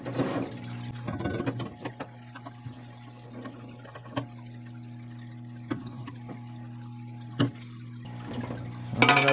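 A parts washer pours a stream of solvent to rinse brake caliper pins from a Honda Odyssey rear brake job, a close running pour broken by a few sharp clicks and knocks, with a low steady hum beneath.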